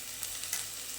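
A quarter tablespoon of turmeric fries in a pan of lightly browning ingredients, a steady close sizzle with faint crackles and no voices.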